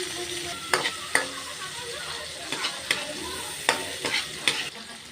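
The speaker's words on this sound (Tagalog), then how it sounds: "Gisa muna, gisa-gisa. Bawang sibuyas," Garlic and onion sautéing in a pan for a tilapia dish, a soft steady sizzle broken by sharp scrapes and clinks of a spatla stirring at irregular intervals, close and fairly quiet.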